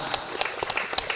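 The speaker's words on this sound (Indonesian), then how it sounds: "tepuk tangan untuk kelompok 6" An audience at an Islamic boarding school's creative competition applauds a group in steady, evenly spaced rhythmic claps, about five sharp beats in quick succession, over a faint crowd murmur.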